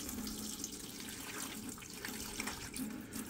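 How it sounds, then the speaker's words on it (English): Water poured into the reservoir of a Bluetti MultiCooler 3-in-1 fridge, freezer and ice maker, a steady continuous splashing stream held at an even level for a few seconds, close by, with no voices. "Just go ahead and pour the water in."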